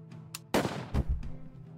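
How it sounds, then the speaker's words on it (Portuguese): Gunpowder shot in the pirate strategy game Braveland Pirates: a sharp blast followed by a second booming hit and rumbling impacts, alone without talk. "Tiro de pólvora."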